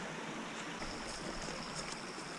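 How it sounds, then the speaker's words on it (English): Water flowing through Windless Cave near Black Mountain and Ozone Falls: a steady, broad rushing hiss of moving water that fills the whole moment at an even level, with no voices. "Definitely got water coming through it."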